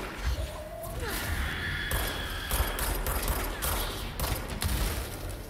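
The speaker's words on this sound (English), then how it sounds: "Shooting me." Gunfire in the action game Control: rapid bursts of shots mixed with crashes, whooshes and mechanical thuds. It runs dense and fairly loud across the whole stretch, with no voices.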